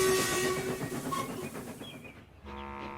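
A steam locomotive rumbles along with clacking wheels, then a loud steady whistle blows near the end, sustained and close.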